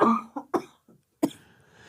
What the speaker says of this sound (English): She tried to make a joke and now she's just dying of coughing.